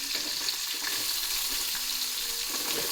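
Chopped onion frying in hot oil with green chilli and curry leaves for beetroot palya, giving a steady, close, continuous sizzle with soft stirring scrapes and no talking.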